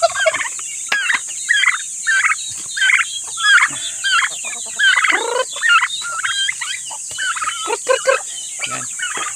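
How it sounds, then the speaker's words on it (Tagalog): Turkeys gobble repeatedly in bursts among chickens in a backyard poultry pen, loud and close, with clucking and other fowl calls mixed in and no talk. "May mga pabo na po tayo dito."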